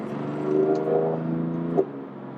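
A BMW M3 Competition heard from inside while driving, its engine droning steadily and rising slightly under acceleration before easing off, a close, continuous hum.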